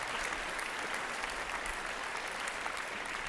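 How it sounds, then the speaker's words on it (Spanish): A church congregation breaks into steady, dense applause, a continuous wash of clapping that fills the room without pause, loud and close throughout. "Hermanos, denle un aplauso al Señor por Campitos"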